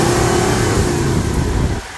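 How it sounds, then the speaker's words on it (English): Toyota 2UZ V8 engine with an aftermarket airbox revving smoothly and loudly up high, holding a steady roar close by before easing off near the end. "You can rev it up to the red line and the motor would stay smooth."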